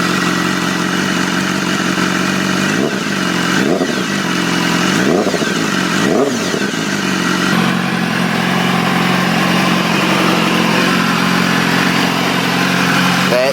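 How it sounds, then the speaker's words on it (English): A BMW S1000RR sportbike engine idles loudly up close, with several sharp throttle blips rising and falling in quick succession before settling back into a steady idle. "That is the BMW S1000RR"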